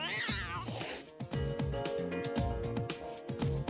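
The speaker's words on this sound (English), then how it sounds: "That cat." A cat meows in the video game Raidou Remastered, a short pitched call standing out over busy, continuous game music and effects.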